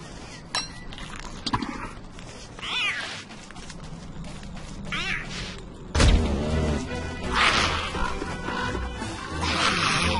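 A catcoon in Don't Starve Together gives several meows and yowls over busy game music and clinking effects, with a sudden crash partway through.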